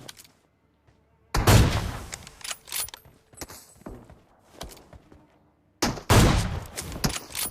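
Bolt-action rifle fire in a battle-royale shooter: two loud, booming shots several seconds apart, each with a ringing tail, separated by softer thuds and clicks and no talk.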